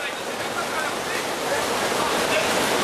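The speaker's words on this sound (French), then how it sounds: "Attention les vagues!" Water rushes and splashes steadily around a racing powerboat in a Formule Promo race on the Seine at Epinay-sur-Seine, a loud, continuous hissing wash with no pauses.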